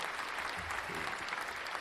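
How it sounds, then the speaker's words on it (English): Steady applause for Chris Cooper, a dense wash of clapping from a group that holds at an even level throughout with no pauses. "Clap it up for Chris"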